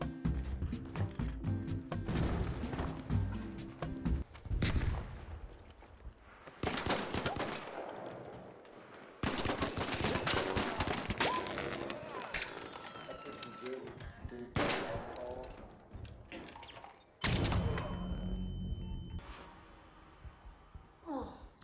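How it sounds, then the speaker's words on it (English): Bursts of gunfire and explosive blasts from a fuse grenade thrown in ARC Raiders come in several loud, broken waves with rumbling tails, and a player's voice reacts between them. "So probably throw a fuse nade in there."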